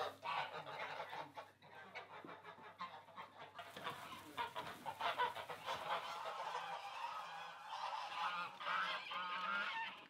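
Geese on a foie gras farm honk and cluck continuously as a flock, moderately distant and fairly quiet, with no voices over them.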